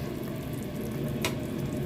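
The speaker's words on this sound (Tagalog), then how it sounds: "Takpan natin ulit at pakuluin muna natin. Ayan, kumukulo-kulo." A pot of chicken soup bubbles at a steady, soft simmer under its lid, with one brief clink partway through.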